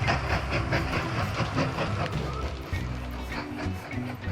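A train rolls along in the Mashinky railway video game, a steady loud rumble with rhythmic clickety-clack beats and hiss, continuous throughout.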